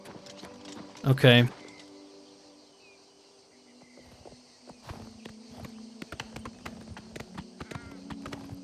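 Horse hooves clip-clop on the road in Oblivion Remastered, a scattered run of light, close steps among crickets and ambient insect chirps. A brief spoken word comes just before them.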